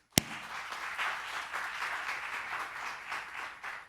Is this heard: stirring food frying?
no